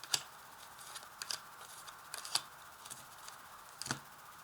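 Tarot cards are drawn and laid down for a reading, giving a handful of soft, scattered card flicks and taps close by in a quiet room, without any talking.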